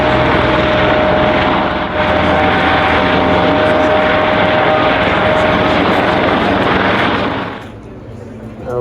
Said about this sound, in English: his helicopter is airborne